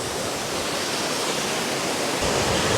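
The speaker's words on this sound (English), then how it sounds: "As you can see, we are at the top of the waterfall." A powerful waterfall in Queenstown roars steadily from its top, a loud, unbroken broadband rush of falling water with no pauses.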